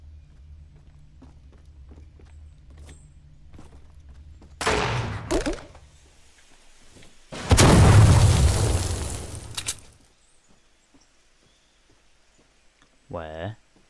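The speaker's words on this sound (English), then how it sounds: "I've got that egg launcher." Egg launcher explosions in the video game Fortnite: two loud booming bursts a few seconds apart, the second longer and heavier, over quiet background game sounds and footsteps.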